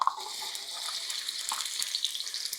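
Onions sizzle in a little oil in a wok, a steady close hiss and crackle with light stirring scrapes, no voices.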